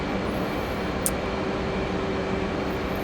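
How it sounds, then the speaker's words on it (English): An F/A-18 Hornet jet in a flight simulator game gives off a steady, even roar that holds at a constant level throughout, with no voices. "who doesn't like the sound of a Hornet overhead?"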